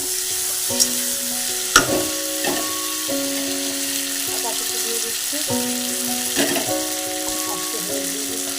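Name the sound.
potato, onion, chilli and tomato frying in a pan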